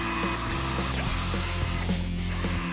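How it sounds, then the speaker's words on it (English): A power drill drives screws into a wall in a home, giving a loud continuous whirring motor drone with a few ratcheting bursts and short pauses. "I want you to get everything drilled into this wall"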